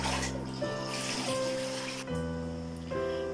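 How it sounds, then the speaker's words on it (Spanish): Cold water poured into a pot while making candied sweet potato, a steady rushing splash over a sustained background tone of music, with a brief break partway. "Después le agregamos agua fría."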